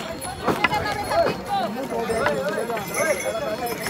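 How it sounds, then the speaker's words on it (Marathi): Horses and mules crowd a cold mountain base camp on the Badrinath route, their hooves clopping unevenly nearby beneath continuous talk from a man. "इथं बघू शकता तुम्ही सगळे घोडेच घोडे, खच्चर"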